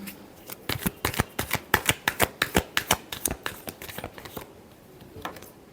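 Tarot cards being shuffled, a rapid run of about twenty crisp riffling snaps close up, steady rhythm then tapering to scattered flicks, no voice during it.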